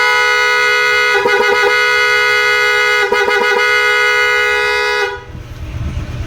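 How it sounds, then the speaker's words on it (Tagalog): A PIAA horn on a Honda Click 125i scooter blares in a long, loud sustained tone, pulsing in two bursts of rapid toots before cutting off abruptly. "Sabay busina."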